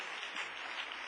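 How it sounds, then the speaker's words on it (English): Congregation hand clapping in praise at a church service, a steady dense wash of many hands applauding together with no talk over it. "Would you give the Lord a hand clap of praise?"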